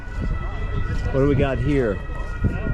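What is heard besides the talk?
European police or ambulance siren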